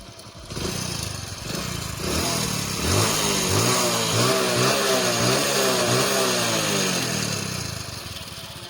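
A motorcycle engine, running after an oil change, idles close by and then revs repeatedly in rising and falling surges with a throaty, steady drone beneath. No voices are present.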